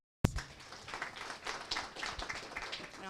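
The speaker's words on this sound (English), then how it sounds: "Please give Linda a round of applause." An indoor investor education conference audience breaks into sudden applause for Linda, a dense, steady round of many hands clapping that starts sharply and continues without talk.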